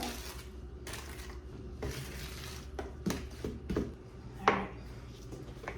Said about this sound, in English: then we'll give this another good stir now that we've got the butter in there